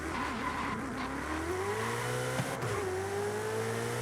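A 2014 Ferrari California T V8 engine in the video game Forza Horizon 5 revs loudly and steadily, with a rising tonal whine and a brief tire squeal, with no talking.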